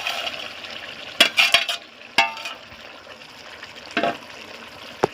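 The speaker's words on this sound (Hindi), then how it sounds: "इनमें अब डालना है हमन ला जो तल के रखे हैं वो मछली ला" Pieces of fried fish dropped into a pot of boiling curry with curd, a few soft splashes and stirring clinks over a low simmering bubble, fairly faint and close.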